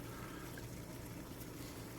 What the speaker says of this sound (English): we got the water boiling, as I'm sure you might be able to hear